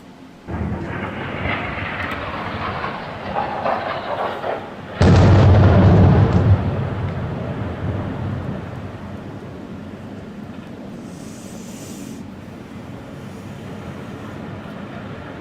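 A heavy explosion from bombing in Sur, South Lebanon, booms out suddenly and loud, then fades into a long, low rumble over steady background noise.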